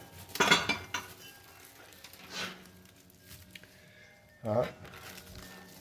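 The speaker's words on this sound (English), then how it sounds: "Here's a couple like seashell scallop soap dishes, I would think." Old seashell scallop soap dishes are handled, giving a couple of sharp ceramic clinks and knocks spaced a few seconds apart, near and clear, with a person talking quietly in between.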